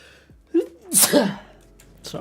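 A single close, loud human sneeze, a short inhaled lead-in followed by a sharp burst, with a brief breathy sound trailing after.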